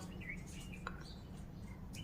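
Faint calls of demoiselle cranes and other birds at dusk in Naliya taluka, Kutch, a few scattered distant chirps over a steady low hum and soft insect-like hiss.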